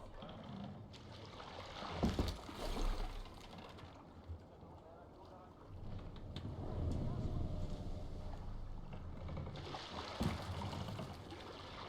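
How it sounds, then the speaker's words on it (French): Oars rowing a boat through water in Assassin's Creed Valhalla, with steady splashing and swishing strokes over ambient game sound, several stronger pulls standing out. "Il va falloir ramer ici."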